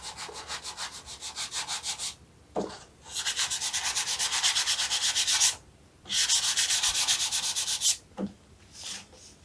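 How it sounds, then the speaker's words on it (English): An electric sanding mouse buzzes against 220-grit sandpaper in steady pulsing passes, loud and close, stopping briefly twice between long runs. "I just got my sanding mouse here and some 220 grit sandpaper"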